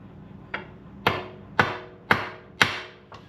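Six sharp, ringing hammer blows on a metal plug set in a hole land at an even pace about half a second apart, close by, with the last one lighter.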